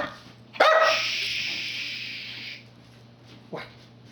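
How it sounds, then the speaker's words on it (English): A dog barks sharply once at close range, its loud yelp trailing off over about two seconds, then a second, shorter bark follows; no one speaks. "I got a dog that's making noise."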